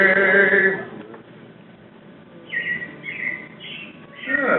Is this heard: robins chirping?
yes